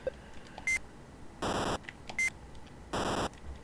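In a video game, a mosquito-extermination sound effect alternates short high beeps with longer buzzy electronic bursts, two such pairs in quick, regular succession, clear and fairly quiet.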